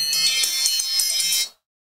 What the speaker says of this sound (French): téléphone nous sonne